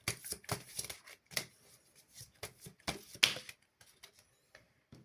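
Tarot cards being shuffled and drawn, giving a run of crisp papery riffles and flicks in close, quick bursts with short pauses between them and no talking.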